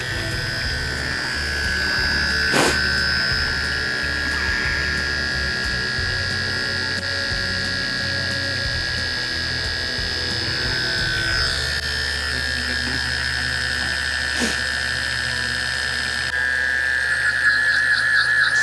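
A small solar fountain pump running steadily after kicking on, a continuous electric hum with a faint high whine throughout, close and fairly quiet, with occasional small clicks and no talking.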